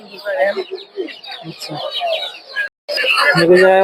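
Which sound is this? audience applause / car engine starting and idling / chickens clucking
chickens clucking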